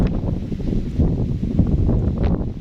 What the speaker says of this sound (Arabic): كاين الريح مجهد